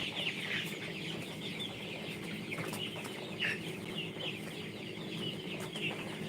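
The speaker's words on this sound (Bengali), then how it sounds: "এটা হচ্ছে আমার মুরগির খামার কালারবাট মুরগি" Color Bat chickens on a poultry farm, a soft, low-level chorus of scattered clucks and brief calls from many birds over a faint background hum.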